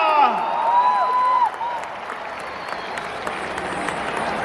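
Crowd of students and young people applauding in JLN Stadium, Delhi, during a Parakram Diwas celebration, steady broad clapping with a whistle-like tone and a voice over it early on, then the applause continues alone at a lower level.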